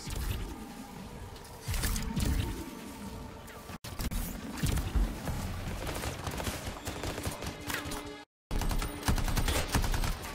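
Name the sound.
gunfire in the video game Anthem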